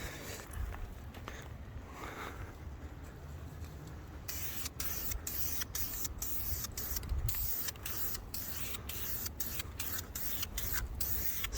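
Outdoor spray painting of a front lip for a BMW E39 528i, a steady close hiss with rapid on-off bursts in the second half, with wind noise and no talk.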